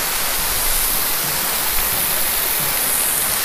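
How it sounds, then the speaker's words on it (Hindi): Dense, steady roar of water plunging at Dainthlen or Prut Falls in Northeast India. The loud, close rush fills the air without a break. "इधर से पानी गिर रहा"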